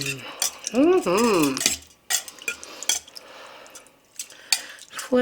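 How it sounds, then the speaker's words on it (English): Spoon stirring beef and broccoli in sauce in a slow cooker, with close scraping and clinking strokes against the pot that come in uneven bursts, plus a brief squeaky whine near the start. "you just want to give this a good stir"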